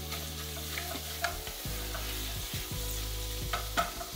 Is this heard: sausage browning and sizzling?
yes